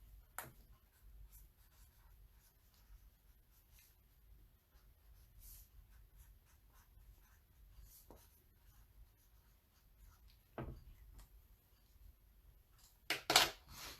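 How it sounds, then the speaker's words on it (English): Pen writing on the back of a new transfer sheet, faint soft scratching strokes at close range, followed by a few louder taps and rustles near the end. "I'm going to write on the back the name of the transfer"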